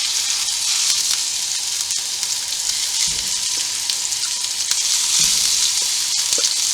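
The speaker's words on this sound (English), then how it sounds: "it's just a matter of browning one side of the meat" Venison mince browns in a frying pan with a steady, close hiss of sizzling fat and a few soft scrapes and taps of stirring.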